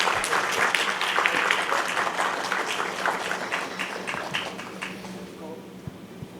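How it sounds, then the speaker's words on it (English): An audience claps after a keynote speech on digital transformation, a dense patter of applause that thins out toward the end, heard at moderate distance with a voice talking over it. "Could we please have a big round of applause for Mr. Vinod?"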